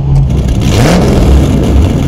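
A 1977 American sports car with an L82 engine and four-speed revs up close and loud, a steady rough engine roar rising in pitch over about two seconds.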